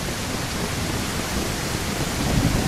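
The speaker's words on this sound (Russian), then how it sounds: "Ой, дождь начался." Rain begins in the survival game Mist Survival, a loud steady broadband wash of downpour, continuous and even, swelling slightly toward the end with no voices.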